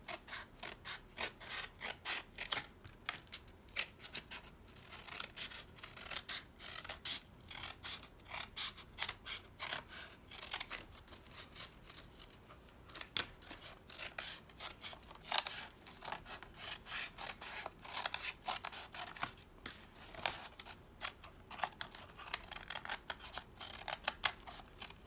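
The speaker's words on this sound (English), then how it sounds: "use my scissors and try to follow that line" Scissors snipping around the rim of a paper plate, cutting along a traced circle for a craft aquarium; steady close rapid cuts and paper rustle continue throughout with no talking.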